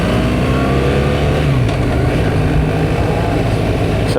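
A BMW R 1300GS motorcycle engine revs steadily and loudly up close, a continuous mid-pitched drone with slight rises in pitch while the clutch is worked, with no talking.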